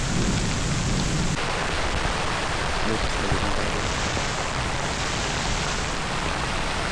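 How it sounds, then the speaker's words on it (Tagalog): Heavy rain roars in a dense, constant wash of noise, loud and close, with a low rumble underneath. "Lakas ng ulan."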